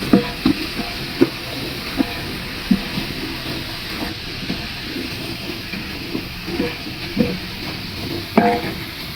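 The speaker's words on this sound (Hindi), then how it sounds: "ये दरदरा कुटा हुआ मेरे पास धनिया, इसको भी थोड़ी देर के लिए भूनेंगे।" Cumin and coarsely crushed coriander roast with spices in a pan, giving a steady sizzling hiss. Light scraping stir strokes recur at fairly regular intervals, close and moderately loud.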